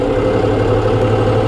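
Tractor engine held at raised revs around 1500 RPM in a wet paddy field, a loud, close, steady low drone with constant pulsing rumble and no pauses.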